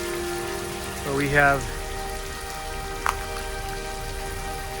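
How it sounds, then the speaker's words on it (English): Steady rain still falling after a tornado in Lubbock, Texas, a constant hiss of drops on surfaces throughout, with a voice speaking briefly over it. "It's raining still"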